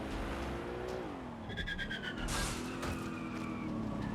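A fast car in the Watch Dogs Legion game races through London streets with a steady, loud engine drone that rises as it accelerates, with tire squeal and revving over the top of it.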